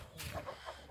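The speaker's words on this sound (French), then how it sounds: "Le coq brama, là, il chante" A young rooster, nearly adult-sized, lets out a short, faint crowing call, brief and somewhat distant within a quiet backdrop.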